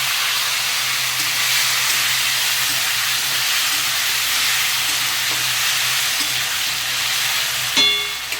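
Potatoes frying in oil with a bay-leaf tempering give a steady, close sizzle that hisses evenly throughout, with a brief clatter near the end.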